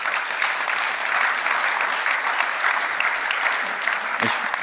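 Sustained, dense applause from an audience at a talk on internet freedom and surveillance fills the room, steady and loud from start to finish.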